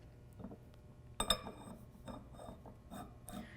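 Faint dry rasping and clicking of a machined lathe tailstock nut turning along its threaded screw, with a few sharper metallic ticks midway in an otherwise quiet setting.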